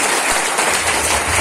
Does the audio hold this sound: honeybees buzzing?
no